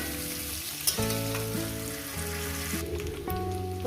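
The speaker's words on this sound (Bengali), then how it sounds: "এটাকে সুন্দর করে ভেজে নেব" Raw jackfruit frying in goat fat gives a steady, close sizzle throughout, with music playing over it.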